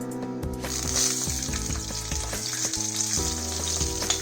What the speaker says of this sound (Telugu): ఇప్పుడు ఆయిల్ వేడెక్కింది. ఇప్పుడు ఆనియన్స్ వేసుకుందాం.